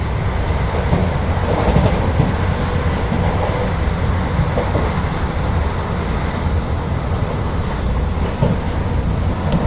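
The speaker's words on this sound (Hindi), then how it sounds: "मंगला एक्सप्रेस को ओवरटेक कर रही है अभी अपनी वंदे भारत एक्सप्रेस, वही फ्लैट 130 की रफ्तार में" A Vande Bharat Express train overtakes the Mangala Express at about 130 km/h, heard from on board as a steady, loud rumbling roar of wheels on track with faint rhythmic clatter throughout.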